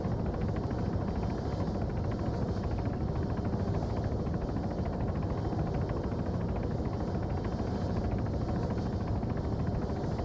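A helicopter hovers in the ArmA 3 video game, giving a continuous low rotor thrum and whine, steady and muffled throughout.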